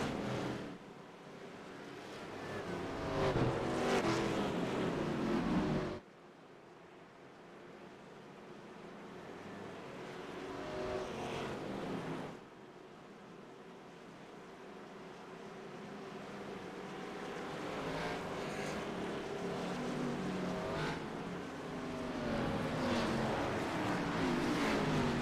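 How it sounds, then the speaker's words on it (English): Xfinity race cars in a stock-car racing game parade behind the pace car on the back stretch at Atlanta, making a continuous, broad engine rumble and rushing noise that steadily swells and fades with two abrupt cuts. "See all our cars being paraded behind the pace car on the back stretch here."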